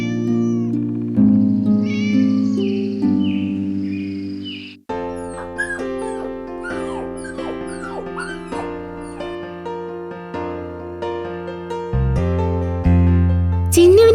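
Cartoon kitten meows in a run of bright, expressive calls over light background music, and a puppy whimpers and yips in between.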